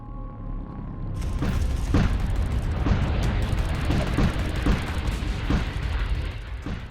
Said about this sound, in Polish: Trzecia bomba ostro zbacza z kursu i wybucha, nie czyniąc zaporze żadnych szkód.